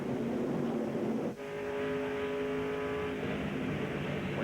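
NASCAR race cars at speed on an oval track in a 2000 race, a dense roar of engines with one car's rising tonal whine sweeping past close by, heard under race-broadcast commentary.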